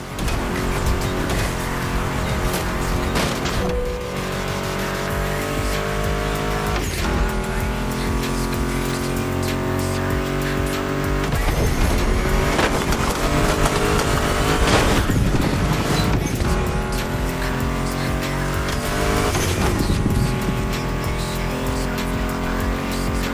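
A Ford Mustang GT muscle car racing in The Crew Motorfest, its engine roaring loudly and continuously, with revving surges and tire squeals over a musical backing track.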